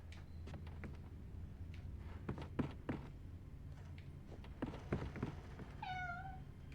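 In the Enter the Matrix video game, a cat gives one short meow near the end, preceded by soft footsteps and taps in a quiet room.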